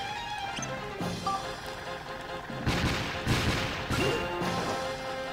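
Explosions in the Dark Cloud 2 action RPG, several broadband booming bursts around midway and later, loud over steady game music and ambience, no talk.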